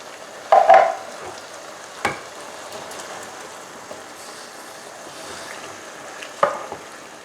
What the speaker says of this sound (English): And now we're going to add our 2 tins of tomatoes.